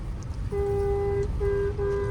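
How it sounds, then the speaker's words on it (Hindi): A car horn blares in one long steady honk, then two shorter honks follow, loud and close over low engine rumble, at the entrance to a narrow lane. "इसलिए लॉन्ग हॉर्न प्रेस करो।"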